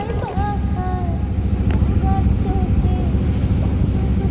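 A trawler boat travels across open haor water near Mithamoin, Kishoreganj, its low engine drone running steadily under gusty wind buffeting the microphone, with faint thin tones drifting above.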